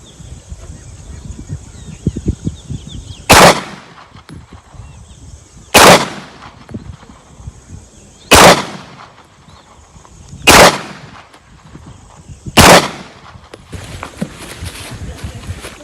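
Five loud, sharp gunshots ring out as rounds are test-fired at a target, spaced two to three seconds apart, each with a short echoing tail over quiet outdoor ambience.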